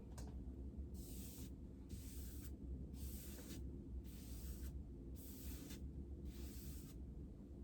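An Earlex 5500 paint sprayer lays matte paint onto a dresser in six or so even bursts of airy hissing, each under a second, over a steady close motor drone.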